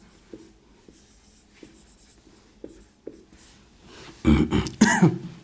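Marker or chalk writing out a maths solution on a classroom board: a series of short, soft scratchy strokes spaced apart, then a louder burst of denser scribbling near the end, with no talking.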